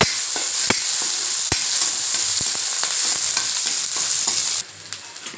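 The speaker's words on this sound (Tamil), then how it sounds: "அதை இது போட்டுக்கலாம் வெங்காயம் வந்து நல்லா வதக்குங்க" Small onions frying and being stirred in a hot pan for a rajma gravy, a loud, continuous close sizzle with scattered scraping clicks, dropping off sharply near the end.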